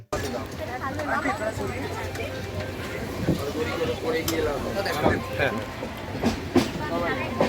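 An Indian passenger train rumbles along with rhythmic rail clatter, heard inside coach S5. People chatter throughout the carriage.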